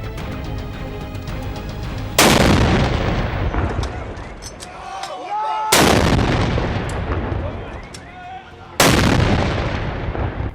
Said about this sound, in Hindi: पेशावर में जिना पाक और लाहौर के फोर्ट्रेस स्टेडियम में पाक फौज के दस्ते ने तोपों की सलामी दी